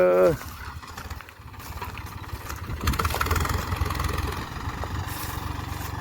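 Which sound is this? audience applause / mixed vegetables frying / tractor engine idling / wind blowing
tractor engine idling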